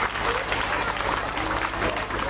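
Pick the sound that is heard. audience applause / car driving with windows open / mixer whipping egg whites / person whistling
audience applause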